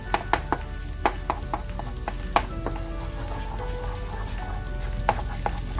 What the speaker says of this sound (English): Start scrambling the egg. And mash up the tomato as you do so.